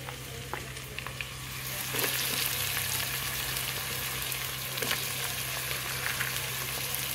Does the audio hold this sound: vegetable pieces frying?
yes